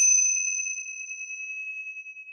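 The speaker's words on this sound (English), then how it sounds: "This is just one set of Tibetan bells." A set of Tibetan bells struck once, giving a clear, pure ringing tone that sustains and slowly fades with a gentle beating shimmer, alone in a quiet room.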